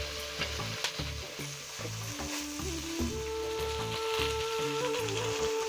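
Bata fish frying in a pan over a village cooking fire, a steady close sizzle with crackling oil pops running throughout, alone with no talk.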